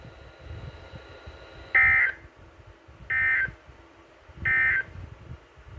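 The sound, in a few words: Emergency Alert System weekly test tones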